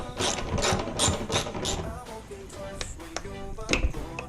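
Ratchet clicking in quick bursts while headlight bolts come out of a 2013 Subaru WRX, with a few sharper metallic taps afterward; close and moderately loud, no talking.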